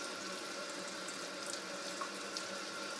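Water runs steadily from a kitchen tap while tomatoes are rinsed, a soft, even hiss and splash with no talk.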